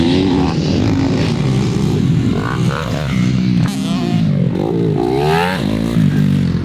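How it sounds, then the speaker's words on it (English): A rough-running motocross dirt bike engine revs hard through a jump, its pitch rising and falling with sputtering hesitation, loud and close, mixed with scraping and clatter. "That bike sounds like garbage. Why does it sound like that?"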